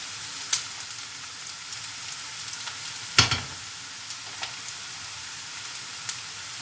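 Onions frying in a pan for Turkish içli köfte, a steady soft sizzle carrying throughout with a few sharp crackles and one louder pop near the middle.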